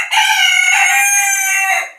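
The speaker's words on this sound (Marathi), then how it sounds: "आणि कोंबडा हा आरवतो त्याच्या वर्चस्वासाठी" A rooster crows loud and close in one long sustained call, strained and harmonic, fading at the end, with no other sounds around it.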